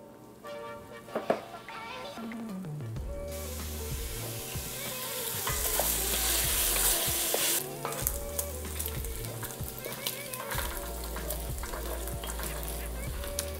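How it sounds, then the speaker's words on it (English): Bacon sizzles loudly and steadily in a pan while being broken apart, with spatula scrapes and clinks cutting through the frying hiss and faint voices in the background. "So we're gonna start off with our bacon. I'm gonna just kind of break it apart in here."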